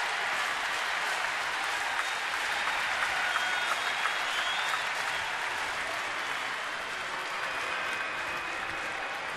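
A large baseball stadium crowd at a Rockies–Nationals game applauds steadily for over nine seconds, a broad, even wash of clapping with faint cheering and no break or swell.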